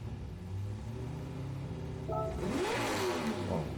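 Subaru BRZ drift car in Gran Turismo 7 revs hard, a steady mid-pitched engine drone that climbs into a loud sweeping rev near the end, with no talk over it.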